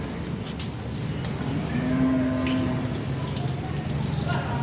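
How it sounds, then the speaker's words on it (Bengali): Water runs steadily from a tap while fish is washed, a continuous close splashing flow with faint drips and a brief tonal whine partway through. "এখন আমি মাছগুলো কেটে ধুয়ে নেব।"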